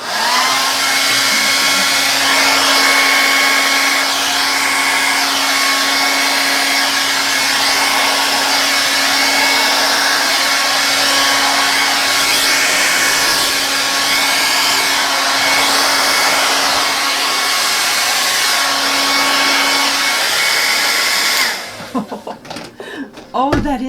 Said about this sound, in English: I'm not going to use the extra high on the dryer, just the regular high.